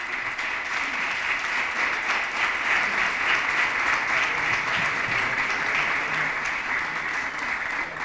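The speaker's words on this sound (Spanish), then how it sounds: "Un aplauso para él." Steady audience applause for a veteran Andalusian sportsman visiting a secondary school, dense and even throughout without talk on top.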